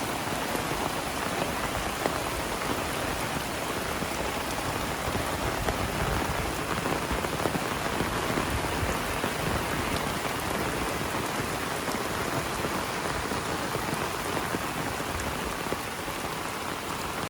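Steady, heavy rain patters densely on a taut tent tarp overhead at a riverside campsite, a constant close drumming with no pauses.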